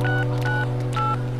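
Phone keypad dialing tones: three short dual-tone beeps at an even pace, clear and close, over a steady low electrical hum, with no talk.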